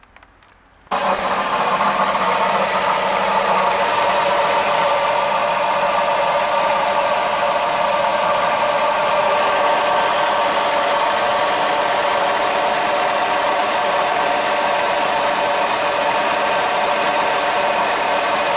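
A minivan engine cranks and catches after a brief quiet moment, then settles into a loud, steady close-up idle with a faint ticking knock running underneath.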